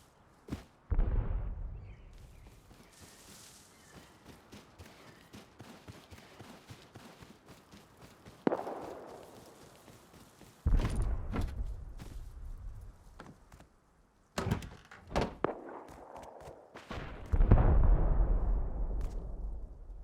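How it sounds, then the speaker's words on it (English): Scattered booms and sharp cracks of gunfire and explosions in the game Rust, some distant and rumbling, others closer and heavier, arriving irregularly against a faint crackling background. "Gunshots and explosions carry a long way"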